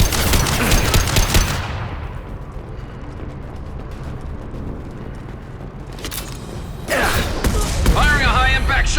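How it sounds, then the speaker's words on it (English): Sidearm gunfire in Mass Effect Legendary Edition, with loud bursts of rapid shots at the start and again near the end around a quieter mechanical stretch, mixed with game sound effects and a voice talking. "Firing a high-impact shot!"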